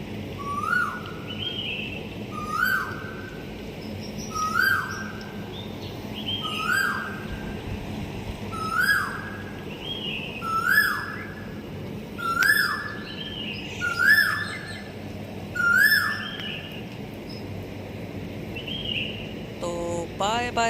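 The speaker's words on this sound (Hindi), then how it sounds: "सुनिए आवाज़, सुनिए पंछी की, कोयल की।" Asian koel calling near a hotel swimming pool in Pattaya, Thailand: about ten clear, rising whistled calls repeat at an even pace of roughly two seconds, moderately close, over a soft steady background hum.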